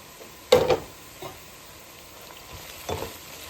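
Onions frying in a pan for a brown beech mushroom curry make a soft background sizzle, broken by a sharp stirring clatter early on and a few quieter scrapes of a spoon against the pan.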